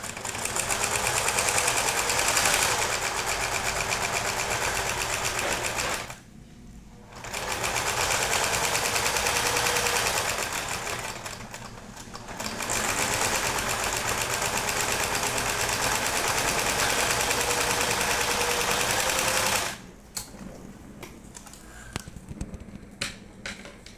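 A sewing machine stitches around a fabric baby teether, running with a loud, fast mechanical whir in long stretches broken by two short pauses and stopping near the end, followed by faint handling noises.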